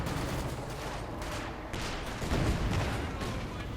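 Dense gunfire and explosions from a Company of Heroes 2 battle, a grenade thrown at a Maxim machine gun position amid continuous fire, with a louder burst midway.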